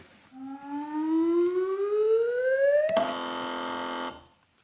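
A rising electronic wail sweeps upward for a few seconds, then cuts to a harsh, flat buzzer tone that holds briefly before stopping abruptly.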